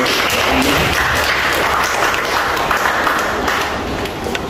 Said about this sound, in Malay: berikan tepukan kepada